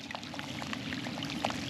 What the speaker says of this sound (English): This rain has been steady so far.